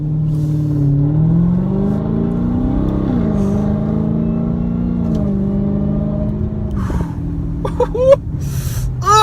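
A Dodge Charger SRT Hellcat with a 700-horsepower engine roars under load while driving, its deep engine note climbing and falling through the gears, loud and close, with a few short squeaks near the end.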